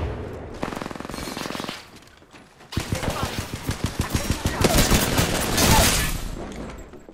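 Rapid automatic gunfire from enemies in an Apex Legends battle royale match, loud bursts of fast repeating shots, a pause, then a longer sustained volley close by.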